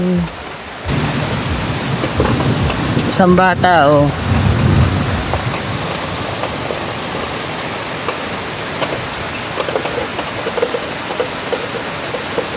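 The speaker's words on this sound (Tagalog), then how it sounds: "Dahil ang lakas ng ulan." Heavy rain pours steadily on a hut during a fishing outing, a constant dense roar with a rumble of thunder early on; a voice speaks briefly over the downpour.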